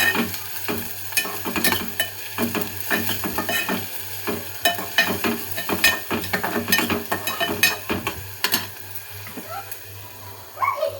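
Onion fries in oil in a pan with garlic already browned, making a close crackling sizzle punctuated by frequent stirring and scraping strokes in an irregular rhythm.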